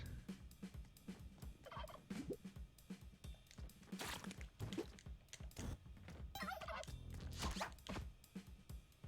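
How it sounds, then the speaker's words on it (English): Turkeys gobbling inside the Spelunky video game, a busy run of short in-game gobbles and squawks layered with other game effects and thumps, fairly loud throughout with no talk. "Time to cook some turkeys."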